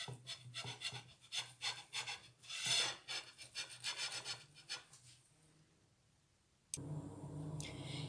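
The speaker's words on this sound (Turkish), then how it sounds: "Kekimi kestim" A big knife saws through sponge cake for tiramisu in a home kitchen, giving a rhythmic series of close, dry rasping strokes that fade out, followed by a steady low hum.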